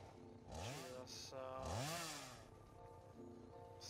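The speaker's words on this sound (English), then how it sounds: "That's a really long chainsaw." Chainsaw running in the video game Satisfactory, engine revving up and down in swooping bursts, loud and close, with a voice speaking over it.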